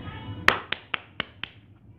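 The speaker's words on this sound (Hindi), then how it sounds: "तालियां तालियां एलेक्सा के लिए" Five or six sharp, separate hand claps in a slightly uneven rhythm, close and fairly loud against a quiet background, clapping for the Alexa voice assistant.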